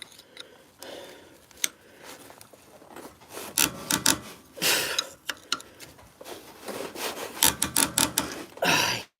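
A small ratchet works on the brakes of a 2008 International WorkStar truck, giving irregular rasping clicks and scraping bursts up close that grow busier toward the end.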